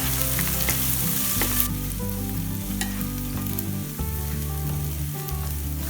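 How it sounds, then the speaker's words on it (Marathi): Onions with ginger-garlic paste frying in a pan for Malvani-style prawn rice, a loud continuous sizzle close by with stirring scrapes, over a steady background tune. "कांदा चांगला लाल भाजून नंतरच टोमॅटो टाकायचा"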